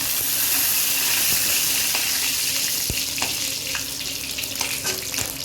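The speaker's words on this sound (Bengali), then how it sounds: "পটল ভাজা হয়ে গেছে, এখন পটলগুলো আমি নামাই নেব" Pointed gourd frying in oil, a steady loud sizzle up close broken by scattered pops and light stirring clicks.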